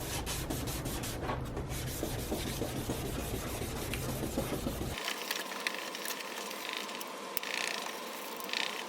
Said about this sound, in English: I'm going to get to sanding now